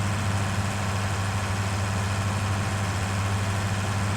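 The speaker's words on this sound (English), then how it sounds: "Man, I love the sound of this tractor" A modded tractor engine idles in Farming Simulator 19, a loud, steady low drone with a strong even hum throughout and no change in pitch.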